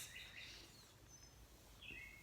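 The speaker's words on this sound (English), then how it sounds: "I just love listening, hearing the birds sing." Faint, distant birds chirp and sing at dawn in short high calls over quiet background hiss.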